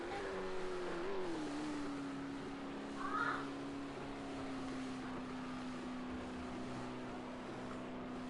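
Supercar engine from an eSports Supercars Championship race at Dubai Autodrome, pulling into the pit lane in a racing video game: a steady, droning engine tone that dips and settles as the car slows, with a brief higher whine near the middle.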